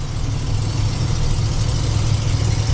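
A pickup truck's engine drones steadily from inside the cab while driving, a loud, even low rumble with road noise that holds constant throughout, no voices.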